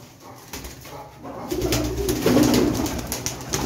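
A pigeon coos close by, a soft low warbling call repeated over rustling background noise.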